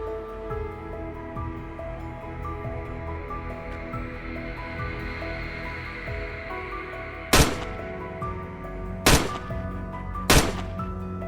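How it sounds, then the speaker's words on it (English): Rifle shots on a wild boar hunt in snowy mountains, three loud sharp cracks spaced about a second or two apart, heard after a stretch of steady outdoor background noise. "unleashed a rapid barrage of bullets"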